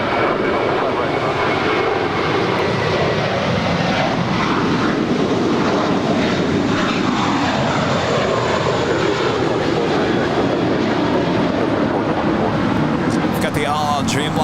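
A Boeing 787 Dreamliner airliner roars down runway 25 right at LAX on its takeoff run, a loud, steady engine rumble that swells and sweeps through the whole stretch, with a radio-style voice talking over it.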